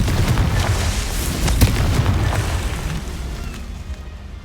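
A Confringo fire spell goes off in Hogwarts Legacy, landing as a loud, dense blast of explosive booms and crackling bursts with a heavy low rumble. It sustains for several seconds and then gradually fades.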